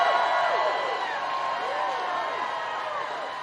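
A large rally crowd in Asheville, North Carolina, cheering for Tim Walz, a broad sustained roar with whoops and rising shouts throughout, loud and close but slowly easing.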